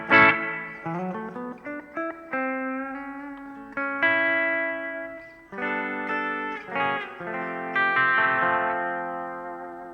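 Electric guitar played through a plate reverb pedal on a pedal board, bright sustained chords and single notes ringing out with a smooth, shimmering reverb tail between phrases.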